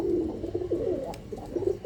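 A chap pigeon coos softly nearby in a few short, low, throaty bursts, faint and alone.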